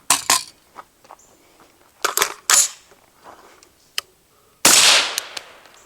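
A rifle fitted with a Blackbird RD F5.56 suppressor fires a few sharp, clipped reports at uneven intervals, mixed with mechanical clicks and handling noises, followed by one longer, louder burst that tails off.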